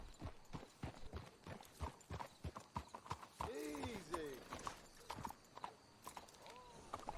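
Horses' hooves clip-clop in Red Dead Redemption 2, a brisk, uneven rhythm of close hoof strikes with a horse whinnying midway, while quiet voices talk underneath.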